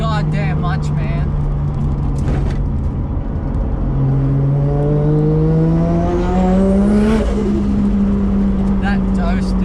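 A Nissan R33 Skyline drift car's engine droning steadily, then climbing in pitch as it revs up through a rising whine before settling back, heard loud and close from inside the car.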